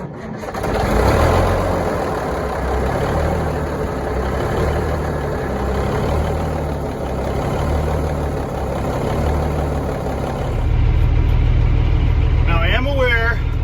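A Smokey and the Bandit tribute semi truck on a freshly charged battery turns over and fires up, then settles into a steady, loud diesel idle, with someone talking over the engine.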